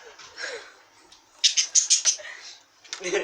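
A small bird chirps in quick bursts indoors, a run of sharp tweets in the middle and more at the end, with faint rustling.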